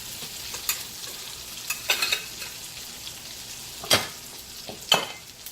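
Tilapia pieces fry in olive oil and butter, a quiet sizzle with several sharp spatula clinks and scrapes against the pan.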